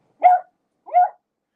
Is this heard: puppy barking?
yes